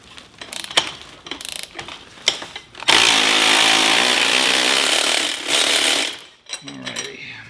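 Ratchet clicking briefly on hex bolts of a Porsche 987 strut during suspension disassembly, then a long, loud continuous whirring burst of a tool or mechanism, with clicks afterward; close and loud.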